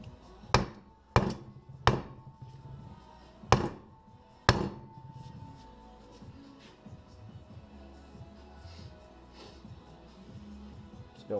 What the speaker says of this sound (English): get my big block here, hammer it down